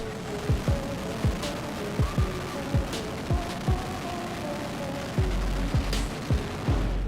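Repeated sharp booms and bangs in irregular succession, some with crackling bursts, like a fireworks display going off nearby over a faint whistling background.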